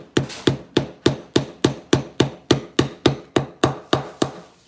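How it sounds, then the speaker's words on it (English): A metal hammer strikes a wire Luckenbooth pendant in a jewellery workshop, with about fourteen sharp, loud, evenly spaced blows in quick steady rhythm and no voices. "we're gonna hammer that a bit"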